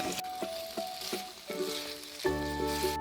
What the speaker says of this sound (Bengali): গোলমরিচের সাথে আলুগুলো মিনিট 2-এর জন্য ফ্রাই করে নেব।